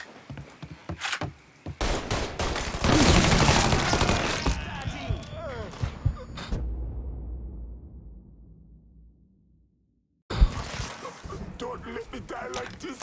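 Rapid bursts of gunfire from the Mafia 3 video game erupt in dense volleys with booming shots, then fade to near silence before loud shooting resumes, while excited voices talk over the action.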